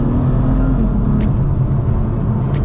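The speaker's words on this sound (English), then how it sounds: "the exhaust isn't too intrusive" A 510bhp BMW M3 on a night drive gives a steady, low engine and exhaust drone from inside the car, loud and continuous with faint ticking clicks over it.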